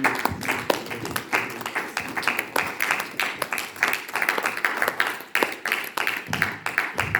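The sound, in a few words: congregation applauding loudly in church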